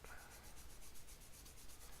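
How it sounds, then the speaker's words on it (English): A sanding stick works a plastic nub with quick, steady back-and-forth strokes, a faint close rasping rub that repeats rhythmically throughout with no talk. "this is called progressive sanding"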